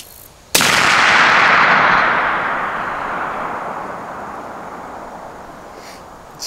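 A single loud shot from a rifle chambered in .454 Casull, fired at a target 1034 yards away, cracks sharply and then rolls into a long echoing rumble that fades over several seconds.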